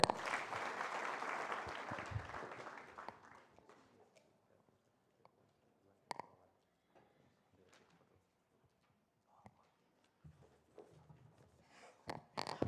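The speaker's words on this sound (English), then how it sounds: "I got to clap again." Audience clapping at a national economics debate, a few seconds of fairly strong applause that dies away into near silence with scattered knocks and shuffles, then a short renewed burst of claps at the very end.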